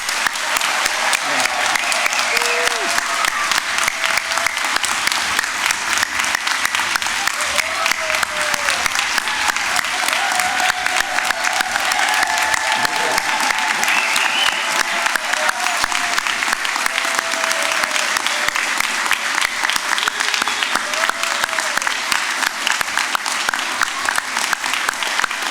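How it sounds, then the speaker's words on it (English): Large convocation crowd applauding graduates, sustained dense clapping for the whole stretch with occasional cheers and shouts rising from the hall. "I hope everybody will join me in a huge round of applause for our amazing graduates."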